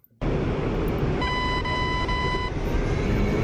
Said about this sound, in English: we're already beeping that we have something on our RWR